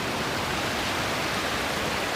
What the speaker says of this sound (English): We got waterfalls coming down all these different directions.